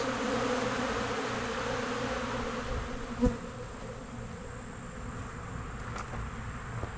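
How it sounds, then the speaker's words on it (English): A dense, continuous buzz of many honeybees swarming in the air, steady and moderately loud, with a brief knock partway through. "the amount of bees that are in the sky right now"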